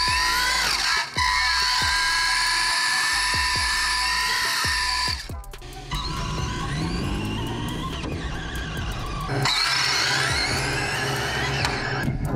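An RC front-engine no-prep dragster launches and drives, its motor whining loudly with rising pitch sweeps and abrupt cutoffs, a high-revving electric scream that surges, drops, and surges again.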